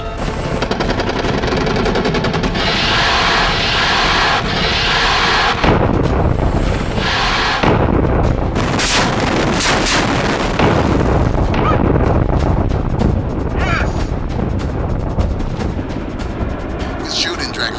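Aircraft gunfire on ground targets in a nuclear-war action movie: loud, dense machine-gun bursts and booming explosions pound almost without pause, with shouting voices in between.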